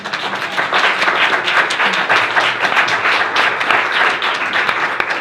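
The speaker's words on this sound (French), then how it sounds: "il faut applaudir ça" A live audience at a spoken literature event breaks into applause, loud and close, with a thick crackle of many clapping hands holding steady for several seconds.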